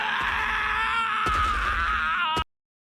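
Speedwagon, the JoJo's Bizarre Adventure anime character, lets out a loud, anguished, sustained scream of grief lasting about two seconds before cutting off abruptly.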